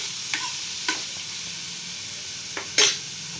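Ivy gourd pieces are turned over while they fry in a pan. A steady sizzle runs under several sharp scrapes and clinks of the spatula against the pan, the last one loudest.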